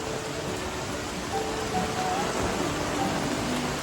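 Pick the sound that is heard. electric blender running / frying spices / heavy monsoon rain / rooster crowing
heavy monsoon rain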